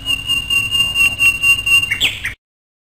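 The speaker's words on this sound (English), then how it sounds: "Nightingale." Nightingale song, loud and close: a sustained, clear whistled note held for about two seconds, then a brief rough flurry before it cuts off abruptly into silence.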